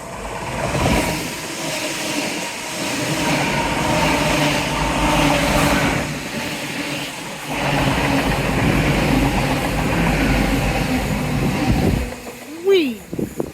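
A train rolls past along a seaside seawall, its rumble building and holding steady for several seconds, then fading, with wind noise and a voice speaking near the end.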